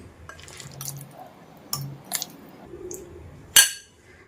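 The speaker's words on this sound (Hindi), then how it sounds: "तो इसी जार में अचार को हम डाल देते हैं।" Bean pickle is spooned into a washed glass jar, making soft wet squishes and drips, a few clinks of a utensil against the glass, and one sharper knock near the end, all close and fairly quiet.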